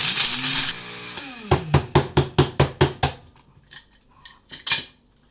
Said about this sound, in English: Then grind it into a powdery mass.